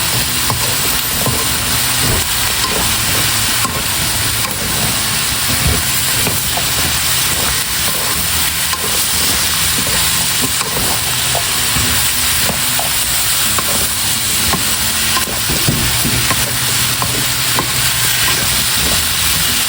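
Bagungon snails and green chilies stirred in a cooking pot of coconut milk, a steady loud sizzle and bubbling hiss with faint scraping, continuous and close.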